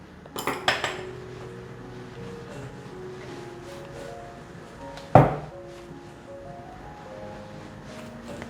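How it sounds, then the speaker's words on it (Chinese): Chopsticks stirring dough in a bowl make light clinks against the bowl, a lingering ringing tone, and one loud knock midway, close by with no speech. "先用筷子搅，免得会粘手。"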